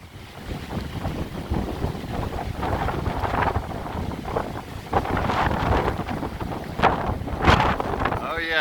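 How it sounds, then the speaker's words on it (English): Strong hurricane wind roars steadily outdoors during Hurricane Zeta in New Orleans, loud and buffeting against the microphone with surging gusts throughout. "That's some strong wind now."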